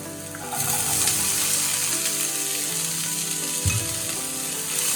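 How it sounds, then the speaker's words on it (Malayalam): Sliced onion hits a hot pan for paneer butter masala and sizzles loudly and steadily, with a brief stirring clatter partway through. "ശേഷം സവാള ആഡ് ചെയ്ത് കൊടുക്കാം"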